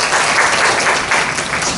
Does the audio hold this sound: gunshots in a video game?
no